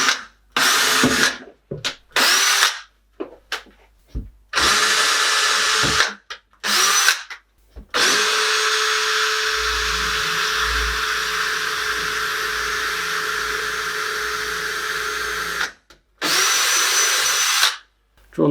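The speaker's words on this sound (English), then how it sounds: "Just need to drill the holes for the wall plugs and screw it in." An electric drill whirs in repeated bursts while drilling wall-plug holes in a wall, short stop-start runs and then a long sustained drilling stretch, close and loud.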